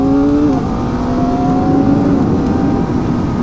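Kawasaki Ninja ZX-4RR with a 399cc inline four-cylinder engine, heard loud and close as a steady high-pitched howl holding near constant revs, with a slight dip in pitch midway.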